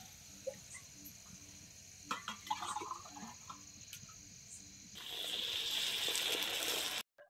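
Water is poured into moth beans cooking in a pan over a village wood-fired stove, a brief splash and then a steady hissing, bubbling rush after a few faint clinks.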